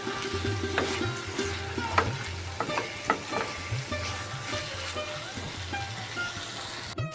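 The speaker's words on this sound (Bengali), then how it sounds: "খুব ভালো মতো কষানো হয়ে গেছে আলু দিয়েও আমি কষিয়ে নিলাম" Mutton keema with potatoes sizzles softly in a pan while a spoon scrapes and stirs in irregular strokes, a low steady frying hiss underneath; no talking.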